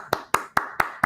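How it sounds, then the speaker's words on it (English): One person claps their hands five times in a quick, even rhythm, each clap sharp and close. "And I'm going to applaud it right now."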